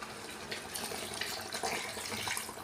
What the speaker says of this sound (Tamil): அதனால் வெந்நீர் சேர்த்துக்கிறேன்.